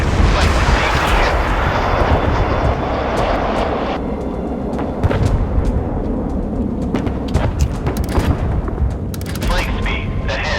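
Naval battle in the Force of Warships video game, with loud booming warship gunfire and explosions over a continuous engine roar, while a voice gives commands.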